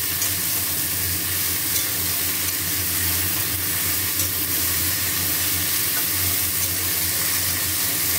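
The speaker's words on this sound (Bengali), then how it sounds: "কাঁঠাল বিচি, কুমড়ো, বেগুন, আলু। এটা খুব ভালো করে এবারে ভাজবো।" Jackfruit seeds, pumpkin, eggplant and potato fry in hot oil, giving a loud, dense, unbroken sizzle close up with no talking.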